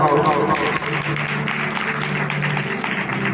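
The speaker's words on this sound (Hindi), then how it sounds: "जोरदार ताली लगाओ" Loud applause from a church congregation fills the space, with a pastor's voice audible over the clapping.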